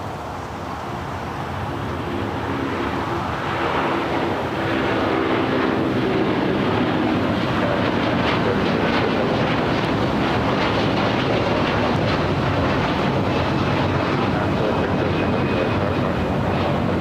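An SAS airliner rolls down runway 25 right at LAX for takeoff, a broad, steady jet roar that builds and then holds loud with wind buffeting.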